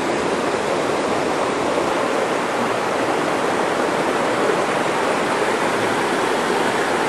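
Gill Brook in the Adirondacks runs beside a hiking trail with a loud, continuous, even rush of flowing water, close by and with no talk.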